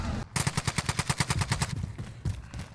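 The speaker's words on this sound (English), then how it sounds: "Yo, you shooting somebody, bro?" Rapid automatic gunfire from a Call of Duty: Warzone match, a loud burst of about fifteen evenly spaced shots followed by a short pause and a few more rounds, with no talk over it.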